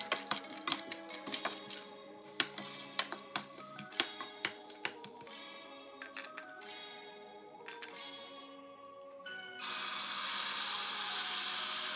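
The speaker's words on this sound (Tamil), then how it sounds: "கொஞ்சம் நெய் விட்டு இந்த கஜு பிளம்ஸை பொரிச்சு எடுக்க வேணும்" Cashews and raisins frying in ghee crackle with rapid sharp pops and spits close up, thinning out before a sudden steady hiss of sizzling takes over at the end.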